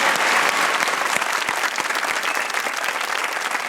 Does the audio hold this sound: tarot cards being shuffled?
no